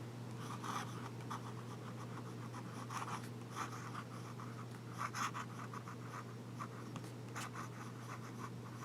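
Lamy Safari fountain pen nib scratching across paper in short bursts of strokes, steady and close, with a constant low electrical hum underneath and no voices.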